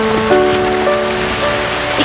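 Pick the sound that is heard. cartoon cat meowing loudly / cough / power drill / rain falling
rain falling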